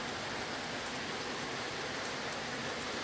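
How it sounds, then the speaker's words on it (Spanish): A storm's rain falling in Chalatenango, a dense, even hiss of drops hitting surfaces that holds steady and fairly loud throughout. "Comienza a llover en Chalatenango."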